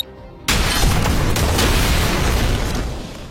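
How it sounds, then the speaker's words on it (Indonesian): A bomb explodes in an action film: a sudden loud blast hits after a brief quiet start, then a dense roaring rumble holds for about three seconds before slowly fading. "Kemudian Kenji mengaktifkan bomnya dan terjadilah ledakan."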